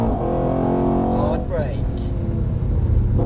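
A Mercedes being driven hard at a track driving experience, its engine note rising and sweeping as it accelerates out of a wide corner, loud and close, with an instructor's voice heard over it.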